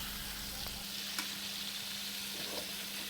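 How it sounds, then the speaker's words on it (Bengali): Sliced flat beans fry with potatoes in oil, making a soft, even sizzle with a light stirring scrape partway through. "আমি সিম কেটে রেখেছিলাম, সেই সিমগুলো দিয়ে দিচ্ছি, দিয়ে একটু এটা নেড়ে চেড়ে ফ্রাই করে নেবো আলুর সঙ্গে।"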